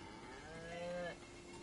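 A single drawn-out cow moo in the video game Season: A Letter to the Future, rising out of a quiet ambient background and fading within about a second.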